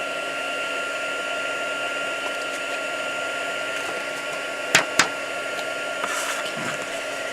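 A heat gun blows a steady, close whooshing hum while embossing white powder onto a card, broken by a couple of brief sharp clicks.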